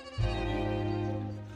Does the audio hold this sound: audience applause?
no